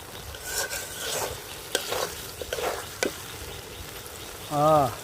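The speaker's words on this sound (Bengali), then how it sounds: "মশলাটা ভালোভাবে কষাই নিছি" Spice masala is stirred and fried in a pan for a village-style desi chicken curry with potatoes. Scraping stir strokes repeat over a steady sizzle, and a short voiced sound is heard near the end.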